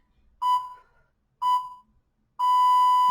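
Beeps from a workout interval timer: two short tones followed by a longer sustained tone, clear and fairly loud with no talking.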